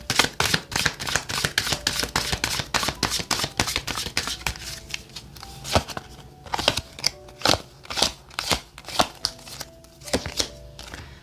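Tarot cards being shuffled and drawn by hand, a dense run of close, crisp riffling and snapping slaps that thins out into separate card flicks and placements, with no talking.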